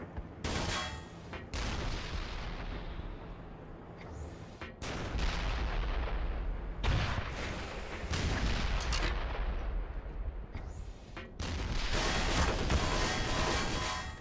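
A tank fires in the game Black Mesa: about five heavy, loud cannon booms, spaced a few seconds apart, each trailing off into a long rumbling decay.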